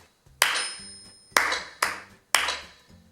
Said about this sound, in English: I'll clap it a couple more times.